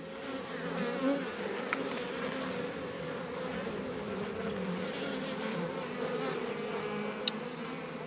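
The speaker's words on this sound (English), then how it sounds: "It's just worker bees in there." Worker honey bees in a newly installed hive give off a steady, dense buzzing drone that stays close and even throughout, with no voices over it.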